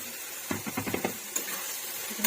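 Mushrooms are tipped into a pan of sautéing potatoes and spices, producing a quick cluster of soft thumps and clatter over a low, steady sizzle, then one more bump.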